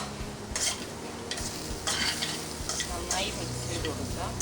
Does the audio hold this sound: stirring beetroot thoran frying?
yes